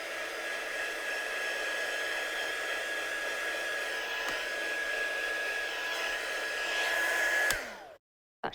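A heat tool blows over a handmade Christmas card with ink and white texture paste, a steady, close, whooshing fan drone with a faint whine that holds for about eight seconds, then cuts off abruptly.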